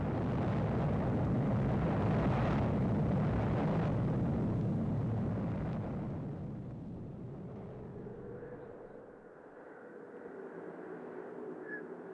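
Atomic bomb explosion over Hiroshima, a huge, dense roar that fills the first several seconds and then fades into a lower, droning rumble.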